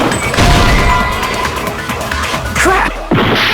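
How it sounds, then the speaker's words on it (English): In the Danganronpa 2 video game, a window shatters in a sharp, loud crash, followed by scattered glassy impacts and a brief whoosh, with a second hard hit near the end. "the girls heard the sound of the window shattering"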